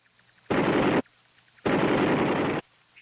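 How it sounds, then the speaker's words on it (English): Two long bursts of M60 machine gun fire, each lasting about half a second to a second, loud and close with a short silent gap between them and no voices. "the most valued weapon of all was the M60 machine gun"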